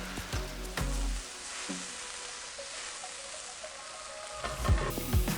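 Lagman noodle ingredients stir-frying in a pan, a steady sizzle with scattered clinks and scrapes of stirring, louder bursts near the start and end, no talking.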